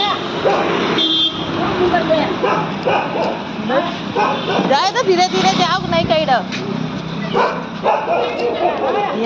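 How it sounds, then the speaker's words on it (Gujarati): A dog barks a few times amid steady talking, the yips sounding near and overlapping the voices. "કૂતરું ભસે છે"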